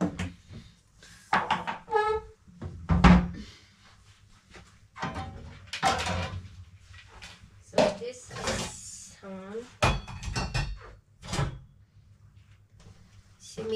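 Dishes and utensils clatter and clink as plates are washed in a home kitchen, with cupboard-like knocks mixed in and someone talking over much of the clatter.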